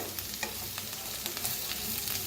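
A spoon stirring masala aloo bhindi, okra and potatoes, in a hot pan, with soft scraping strokes over a steady close sizzle and no talking.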